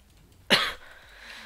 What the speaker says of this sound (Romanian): Mă scuzați dacă o să tușez de multe ori, dar am fost răcit